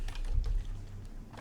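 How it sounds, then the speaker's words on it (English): Quick, soft clicking of keys on a computer keyboard, a short burst of typing close up with no talking. "I'm typing it in the console"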